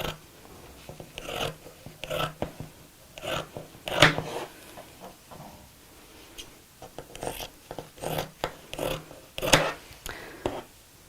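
Scissors snip repeatedly through layered recycled denim, a series of crisp, close cuts in irregular bursts that are quiet overall, with a few louder snips.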